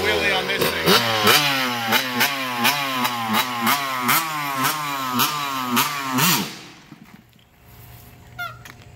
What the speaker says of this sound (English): I'm gonna try to do a wheelie.